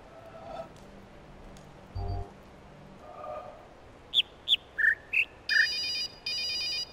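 Telephone ringing inside the puzzle game The Witness: a short series of bright electronic chirps followed by two longer sustained rings, heard over quiet ambience with a few faint earlier tones.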